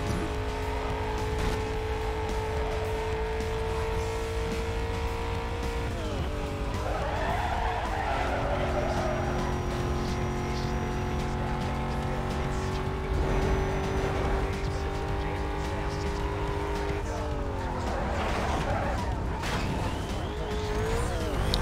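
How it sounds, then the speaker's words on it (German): Corvette understeering in Need for Speed: Most Wanted, a steady droning engine under long, loud tire squeals that rise and bend as the car slides, mostly free of talk. "Die Korvette untersteuert ein bisschen"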